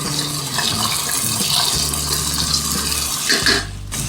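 Sliced okra (bhindi) hits hot oil in a kadai and fries with a loud, steady hiss and crackle that runs unbroken from start to finish, with no one talking.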